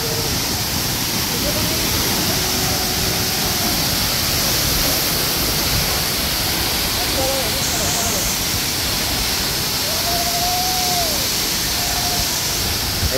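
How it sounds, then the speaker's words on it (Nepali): A twin waterfall at Chitlang in Chainpur, Sankhuwasabha, Nepal roars loud and close in an unbroken wash of rushing water, with faint thin tones drifting through it. "र यही हो सुन्दर झरना।"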